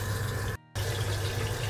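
Homemade salted eggs are rinsed under a running kitchen tap, a steady close rush of water broken by one brief gap.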